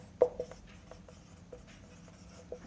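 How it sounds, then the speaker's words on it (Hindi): Marker or chalk writing on a board during a physics lesson, with a sharp tap at the start followed by faint, light strokes and a final tap, quiet and close. "यहाँ पे लिखेंगे, क्या लिखेंगे"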